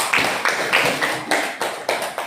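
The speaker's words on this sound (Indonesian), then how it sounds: "Oke, tepuk tangan untuk Shirley." A class applauds in a school room with a handful of separate, fairly quiet clapping bursts in a loose rhythm, roughly one every third of a second.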